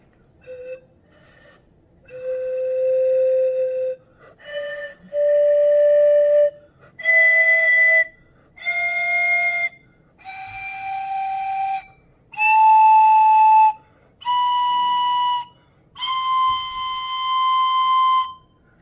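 A series of whistled pipe tones, each held about a second, stepping from a low pitch up to progressively higher ones, with short pauses between notes.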